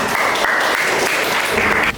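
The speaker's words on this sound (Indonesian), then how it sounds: "Tepuk tangan untuk kalian semua" A class of ninth-grade students applauds in a classroom, producing two seconds of dense, loud, steady clapping that cuts off abruptly.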